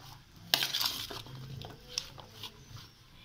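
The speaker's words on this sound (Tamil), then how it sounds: "இதை நல்லா மிக்ஸ் பண்ணி விடுங்க." Yam slices tossed by hand or spoon with chili powder, coriander powder and salt in a bowl, giving soft scraping and clinking mixing sounds in short bursts, fairly close and quiet.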